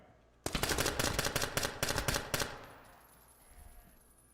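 Rapid burst of automatic gunfire in a tactical shooter game with police raiding a hostile force: about a dozen sharp, loud shots in quick succession for two seconds, then a fading reverberant tail and quiet.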